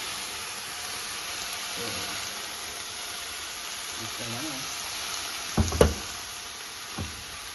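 Tomatoes hit a dry, oil-free AMC cookware pan, giving a steady, soft sizzle and hiss with a few sharp knocks and scrapes near the end, while a person talks over it.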